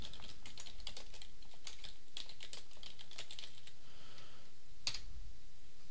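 Quiet computer keyboard typing in irregular bursts of close keystrokes while editing and saving a config file for Dovecot on an Ubuntu Server 14.04 mail server, with one sharper key click near the end.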